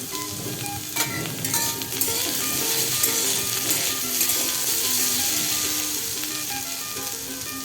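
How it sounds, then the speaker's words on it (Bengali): Diced potatoes frying in hot oil in a wok, a loud, continuous crackling sizzle with occasional scraping and stirring clinks, close up. "আলুগুলোকে আগে একটু হালকা করে ভেজে তুলে নেব।"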